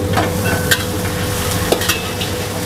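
Water and oyster sauce poured into a pan of browning garlic while cooking beef in sweet soy sauce, giving a steady close sizzle with a few sharp spits and stirring clatter.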